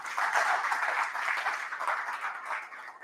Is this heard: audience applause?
yes